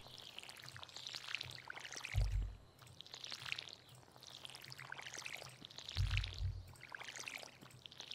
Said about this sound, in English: refill the water